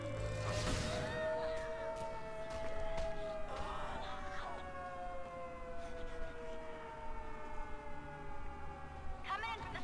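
A wailing air-raid style siren in The Secret World game rings out steadily and loudly for the whole stretch, its sliding tones layered under brief game noises.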